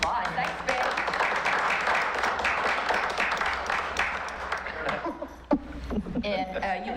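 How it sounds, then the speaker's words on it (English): An audience at a community meeting applauding, a dense patter of clapping that fades out toward the end as voices and movement take over. "Let's give them a round of applause."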